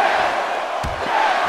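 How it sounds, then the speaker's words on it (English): Video game arena crowd from WWE 2K16 roaring steadily throughout, with a brief low thump partway, a continuous wash of loud voices rather than distinct rhythmic chant syllables. "crowd chanting yes in sync with each one."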